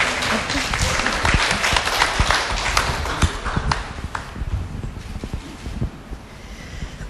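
Clapping from an audience greeting a guest walking onto the stage at a Korean literary radio event, loud and dense at first, then thinning and tapering off.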